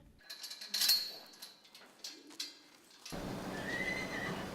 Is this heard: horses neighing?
yes